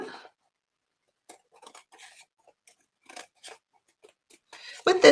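Scissors snip through thin paper while trimming a handmade patriotic junk journal, a series of short, sparse cuts spread across quiet pauses, with a brief voice at the end.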